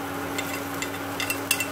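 Minced ginger, shallots, lemongrass, galangal and chili stir-fry in a little cooking oil, giving a soft steady sizzle with light scraping stirs close by and no talk.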